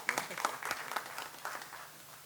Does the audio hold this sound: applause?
yes